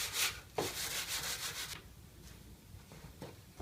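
Cheap dollar-store sandpaper rubbed by hand over a wooden 2x4, with rapid back-and-forth rasping strokes up close that give way to a few slower, fainter scrapes.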